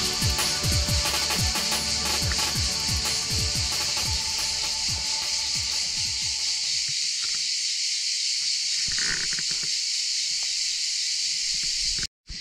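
Cicadas in Italian woodland near the San Vittorino waterfalls in late July keep up a loud, steady high buzzing throughout, with rustling and crunching footsteps near in the first half before quieting.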